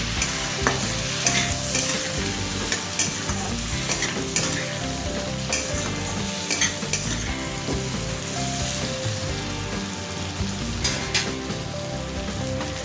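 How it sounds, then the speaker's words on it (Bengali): Spices with turmeric and Kashmiri red chili powder fry in a pan, making a continuous loud sizzle broken by repeated stirring scrapes throughout, with no talking. "এবার সমস্ত কিছু একটু ভাজা করে নেব।"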